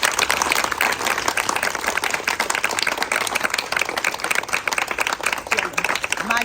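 Clapping and applause from family gathered at a house with a garden lawn, a steady busy patter of hands under some overlapping voices.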